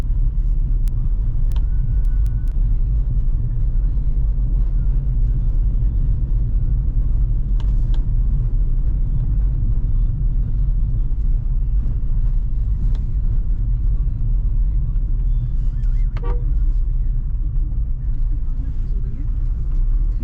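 Nissan Magnite Turbo CVT driving uphill on an evening hill road, with a steady low engine and road rumble throughout, occasional faint clicks and light background noise, no clear voices.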